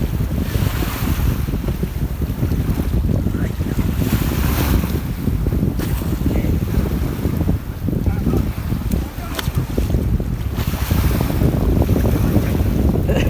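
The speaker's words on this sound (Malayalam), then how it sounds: "തന്നെ സ്പീഡ് ബോട്ടിൽ വർക്ക്." A speedboat runs across open water in the Maldives, its steady engine drone mixed with constant wind buffeting the microphone and the wash of waves, loud and continuous throughout.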